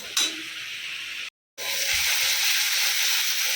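Tomatoes sizzle in a hot, salted pan of oil and spices with a steady, close hiss. The sound cuts out briefly, then the frying resumes at the same level.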